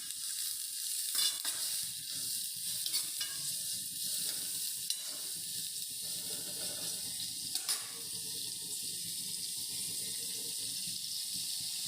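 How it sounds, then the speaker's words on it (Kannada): Onions sizzle and fry steadily in a pan for a tomato rice dish, with scattered scrapes and clinks from stirring throughout and no talking. "ಈ ಈರುಳ್ಳಿ ಒಂಚೂರು ಕಲರ್ ಬರೋವರೆಗೂ ಸ್ವಲ್ಪ ಫ್ರೈ ಮಾಡ್ಕೊಳ್ಳೋಣ."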